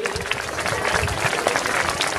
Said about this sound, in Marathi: सर्वांनी त्यांचं टाळी वाजवून जोरदार स्वागत करायचं आहे